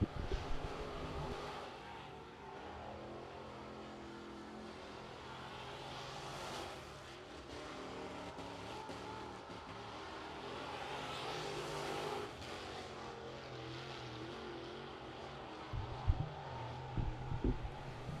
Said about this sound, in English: Sounds like he was doing some throttle work down there in turn 1 and 2